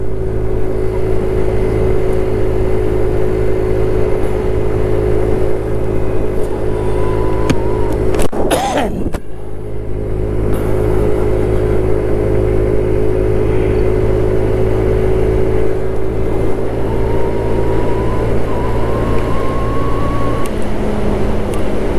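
Kymco Agility 50 scooter engine running steadily throughout a ride, a constant loud drone with steady engine hum and brief louder disturbance partway through, no talking.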